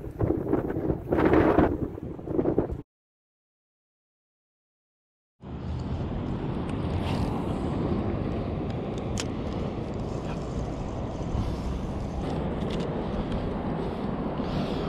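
Steady roar of strong wind, around 50 mph, buffeting a microphone while fishing, cut by a few seconds of silence, then continuing loud and unbroken to the end.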